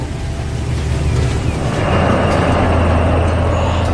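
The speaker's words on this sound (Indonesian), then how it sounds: "Lihatlah kereta uap itu melaju dengan anggun membelah pemandangan desa yang tenang" A steam train rumbles past close by, a loud, steady low drone with rising mechanical noise and a faint hiss on top.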